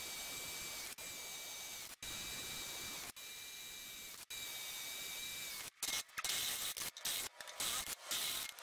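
A power drill bores 8mm holes in steel for a vortex rocket stove, a faint steady whine broken by brief stops, then a choppier burst of starts and stops near the end.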